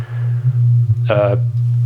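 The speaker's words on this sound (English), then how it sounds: "If I change the phase, we're going to get peaks and troughs, because this is that sine wave shifting in phase" A sine wave passes through a Befaco FX Boy microPhaser all-pass filter cartridge, a steady low hum that dips and swells as its phase shifts, with a brief voice cutting in midway.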